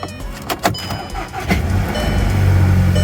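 A 2012 Volkswagen CC cranks with a few sharp clicks and bursts, then catches and settles into a steady, close idle that builds to a loud hum by the end.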